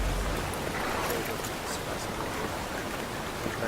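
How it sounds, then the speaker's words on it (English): Steady rain in Metal Gear Solid V, a continuous, even hiss at moderate level with no other sounds standing out. "Right, so it's raining."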